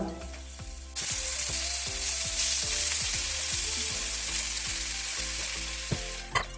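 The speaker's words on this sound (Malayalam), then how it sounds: "പാനൊക്കെ ഒന്ന് ചൂടായി വെളിച്ചെണ്ണ ഒഴിച്ച് കൊടുത്തതിന് ശേഷം നമ്മൾ ചിക്കനൊക്കെ ഒന്നിട്ട് ഫ്രൈ ഒന്ന് ചെയ്തെടുക്കുന്നുണ്ട്" Chicken pieces frying in hot coconut oil in a pan, a loud steady sizzle that bursts in after a quiet start and holds with crackles and occasional stirring scrapes, close up with no talking.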